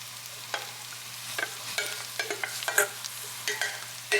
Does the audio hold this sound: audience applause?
no